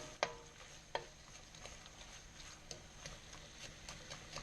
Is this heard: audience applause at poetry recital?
no